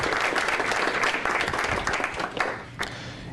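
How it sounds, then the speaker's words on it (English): Audience applause for a panel speaker at a commercial real estate training event, a sustained burst of many clapping hands that thins out toward the end, fairly close and with no talk. "give Bogey a round of applause for joining us this afternoon"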